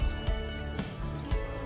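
Half a liter of stock poured into a clay pot holding chicken, jujubes, hot chilies, soy sauce, Shaoxing rice wine and fish sauce, a steady close liquid trickle with a few soft splashy pulses, no talking.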